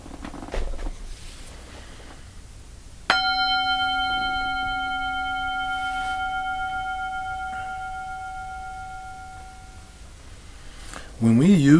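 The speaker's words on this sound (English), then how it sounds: "I'm going to ring the bell. I'm going to ask you to listen carefully." A single bell struck once rings out with a clear, sustained tone that slowly decays over several seconds in a quiet room, and a voice begins speaking just after it fades.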